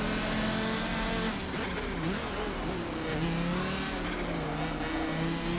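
Race cars including a Ferrari 599 cornering and braking on a short track in Forza Motorsport 7, engines revving and dropping in pitch as they slow through the turn, loud and close throughout.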